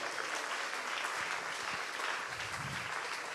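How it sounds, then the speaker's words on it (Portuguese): A church congregation applauds together in a steady, dense stretch of clapping that runs through the whole passage, with a low murmur underneath. "Aleluia, aplauda o Senhor por isso"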